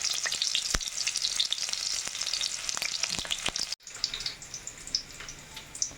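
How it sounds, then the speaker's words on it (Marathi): Onion frying in hot oil, a bright, crackling sizzle close up with sharp pops, briefly cut off midway and then resuming more quietly, no talk. "कांदा फ्राय होत आहे."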